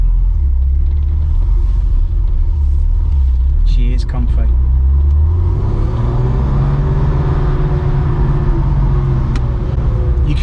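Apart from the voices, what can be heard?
Porsche 993 C4 car driving, engine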